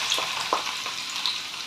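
Garlic sizzles in a hot pan for Filipino chicken adobo, a steady frying hiss with a few brief crackling spurts and light stirring scrapes.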